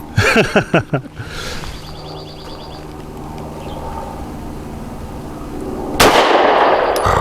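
A Taurus GX4 pistol fires a quick string of about five sharp, loud shots at the start, then a lingering range ambience and one more loud crack near the end.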